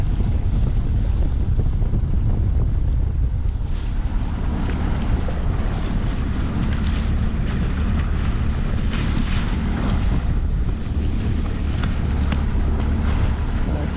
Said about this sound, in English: I apologize for the wind. It's blowing pretty good out here.